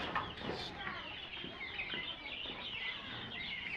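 Kadaknath and Chinese chickens cluck and call close by on a farm, a busy, overlapping flock chatter that runs continuously through the short stretch.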